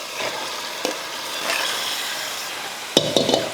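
Marinated chicken fries in a pan with softened tomatoes for a Chettinad curry, giving a steady sizzle with scraping stirs and a few sharp clinks of a spoon against the pan near the end.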